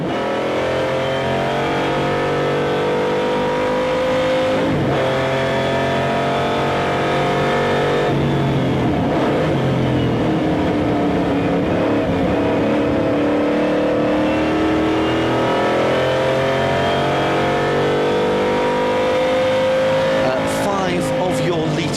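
Group 4/5 sportscar engines revving loudly at Silverstone, several big engines roaring together in sustained, shifting pitch, with commentary voices heard over the engine noise.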